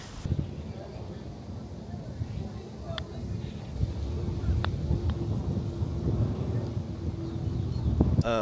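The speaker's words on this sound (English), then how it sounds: "It is freaking windy." Steady wind rumbling and buffeting a microphone outdoors, growing stronger toward the end, with a few faint knocks.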